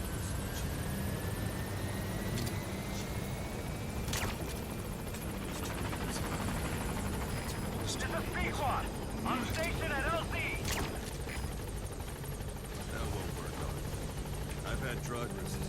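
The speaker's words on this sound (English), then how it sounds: "Go ahead and call the chopper from your iDroid." In the Metal Gear Solid V video game, a helicopter arrives at the landing zone, its rotor and engine drone steady throughout amid game effects and scattered sounds.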